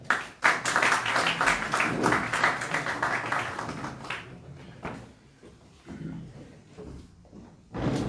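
Applause from an audience at a gathering in Barcelona, loud dense clapping for about four seconds, then fading to scattered claps and murmur before a brief renewed burst.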